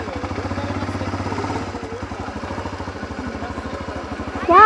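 Motorcycle on a steep dirt trail makes a close, throbbing, pulsing engine chug at low speed, with a voice breaking in briefly at the end.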